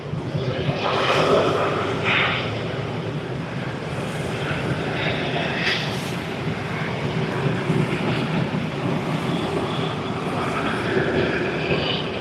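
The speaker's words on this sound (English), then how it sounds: "So we have two back-to-back A380 departures." An Airbus A380 departing Sydney Airport, heard as a sustained, fairly loud jet engine roar that holds steady throughout, with some wind buffeting on the microphone.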